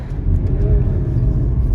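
A BMW E92 335d diesel with a blocked DPF drives past as a steady, close, low engine rumble with no talking.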